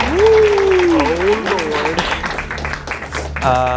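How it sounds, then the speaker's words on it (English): Audience applause fills a stand-up comedy club, continuous clapping under a host's loud voice, with a brief musical sting near the end. "please give a warm, welcoming round of applause to Josh Kreuger."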